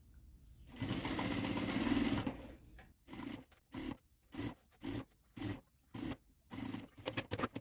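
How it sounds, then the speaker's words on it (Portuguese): A sewing machine runs a steady seam close to the teeth of a zipper while making a cosmetic box bag, first a long continuous burst, then a series of short, evenly spaced stitching runs, close and clear with no talk. "E aqui nós vamos passar uma costurinha o mais próximo que tu conseguir chegar dos dentinhos do zíper."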